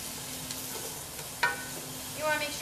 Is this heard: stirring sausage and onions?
yes